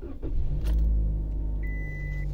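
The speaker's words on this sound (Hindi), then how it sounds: "सबसे पहले मैं इसका गाड़ी चालू करता हूँ" A Toyota Corolla engine starts and settles into a steady low rumble at idle. The sound is close and fairly loud, and a thin electric whine rises partway through. The car is being checked for a leaking AC evaporator.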